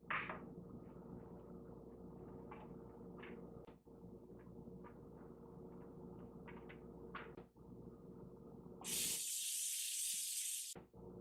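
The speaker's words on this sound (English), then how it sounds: "lightly spray each side with cooking spray" A cooking spray hisses in one sharp, loud burst lasting about two seconds, following quiet handling and small taps on a tray.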